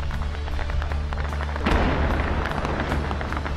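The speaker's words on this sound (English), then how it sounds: "As you can hear, there's a lot of gunfire in the area." Rapid bursts of gunfire crack and echo in a steady barrage in a war zone during fighting against Islamic State positions, with a heavier blast partway through and continuing shots after.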